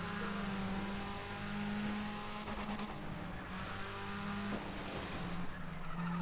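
Car braking hard and skidding in the racing video game Need for Speed ProStreet, a steady engine drone with tire squeal and scraping running continuously at close range, no talk.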